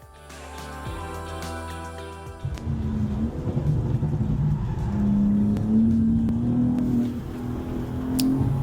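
A BMW M4 Competition G82 starts with a rising engine note, then drives on with a loud, continuous engine drone that climbs and steadies, close and alone.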